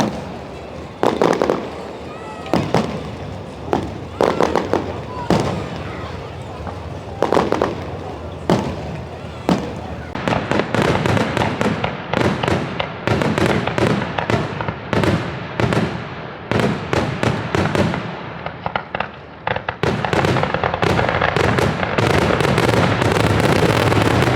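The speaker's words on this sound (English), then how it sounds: "I'll show a little bit more of the fireworks here in the credits" Fireworks at a drag racing event at Keystone Raceway, Pennsylvania, burst repeatedly, loud and sharp, sometimes singly and sometimes in rapid clusters, building to a dense barrage; voices are heard faintly beneath.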